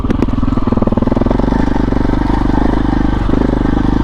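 A KTM 640 motorcycle engine thumps and rumbles loud and close while it is ridden along the Yorkshire Coast, a steady single-cylinder pulse with some clatter, and no voices are heard.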